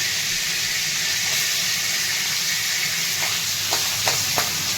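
Tomatoes sauté in hot oil seasoned with cumin and mustard seeds for a village-style capsicum and potato dish, giving a steady close sizzle with a few sharp spatter pops toward the end and no voices.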